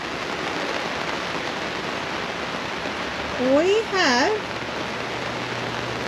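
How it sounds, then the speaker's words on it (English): Steady rain falls at a campground, a soft continuous hiss of drops on surfaces, briefly joined by a person speaking a couple of words close by. "rain, and a little bit more rain."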